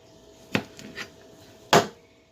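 A knife cutting a V into a vegetable for Puerto Rican sancocho, giving two soft taps on a cutting board followed by a sharper, louder chop against the board.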